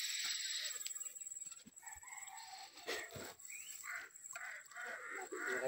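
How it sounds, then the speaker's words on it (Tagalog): A crow caws several times at a distance in a rural outdoor area, with harsh calls rising over faint background ambience and a steady high insect drone. "Yung uwak, oh."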